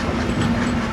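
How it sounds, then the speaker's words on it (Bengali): The Kapotaksha Express pulls out of Chuadanga railway station, heard as a steady, close rolling rumble with a faint hiss and no clear beats. "কপোতাক্ষ এক্সপ্রেস ট্রেনটি চুয়াডাঙ্গা জেলার চুয়াডাঙ্গা রেলওয়ে স্টেশন ছেড়ে যাচ্ছে তার গন্তব্য রাজশাহীর উদ্দেশ্যে"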